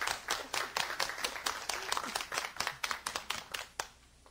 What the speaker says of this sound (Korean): 이럴 때 박수 한번 쳐야죠